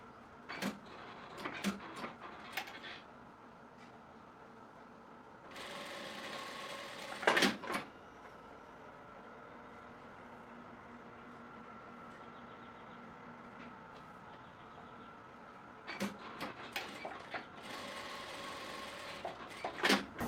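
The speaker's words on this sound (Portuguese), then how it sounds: "eu vou fazer uma costura só com o calcador com guia 1/16" A domestic sewing machine runs a single straight seam with a 1/16 guide foot on a wide-leg trouser piece, a steady low whir over roughly ten seconds, bracketed by short clicks and handling knocks before and after.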